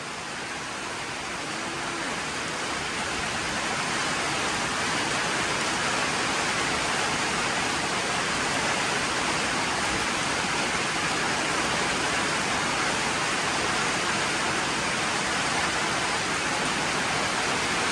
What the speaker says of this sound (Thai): ฝนตกหนักเลยทุกคน